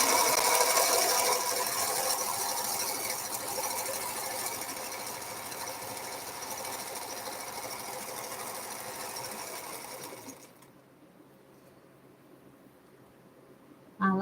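Rapid, even mechanical chatter of a sewing machine stitching a quilt, running continuously for about ten seconds before stopping, leaving a faint quiet hum and a brief knock at the end.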